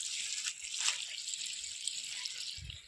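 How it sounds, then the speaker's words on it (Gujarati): Water from a burst hose pipe spills onto a tulsi (holy basil) plant, giving a continuous bright hiss and splatter close by, with a brief low thump near the end. "તુલસીમાં પાણી મૂકી."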